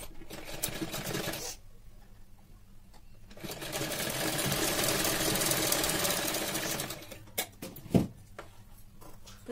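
A sewing machine stitches a blouse in bursts, whirring fast and rhythmically up close with pauses between runs and a sharp clack near the end.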